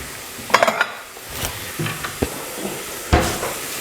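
Onions fry and brown in a pan with a soft sizzle beneath scattered utensil clatter and stirring knocks, including a few sharp clanks spread across the moment.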